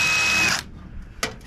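A power drill whirs loudly at a scrap yard for about half a second, then cuts out, followed by a second short burst of the motor.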